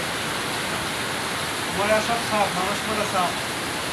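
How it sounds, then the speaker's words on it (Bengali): Heavy rain pours down steadily during a hot-weather downpour, a dense continuous hiss that stays at a constant level, with a soft voice murmuring faintly in the middle of the clip. "কি সুন্দর বৃষ্টি হচ্ছে দেখুন অনেক পানি হচ্ছে"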